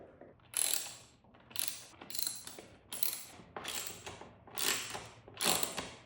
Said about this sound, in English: Now I'm just gonna take a second and hand tighten, or wrench tighten all of these.